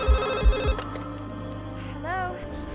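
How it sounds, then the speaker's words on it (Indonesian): A house telephone ringing in a scene from the horror film Scream: a steady electronic ring tone sustained over a low background of film sound and music. "tiba-tiba saja telepon di rumahnya berbunyi"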